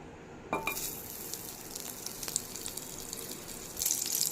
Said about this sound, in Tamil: இப்போது ஒரு கடாயில் இதில் பட்டர் சேர்த்துக்கலாம்